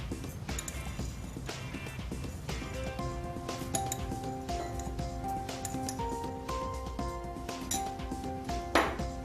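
Metal teaspoons clink against glasses as loose tea is spooned into them, producing a steady series of bright, ringing taps close by, with one sharper clatter near the end.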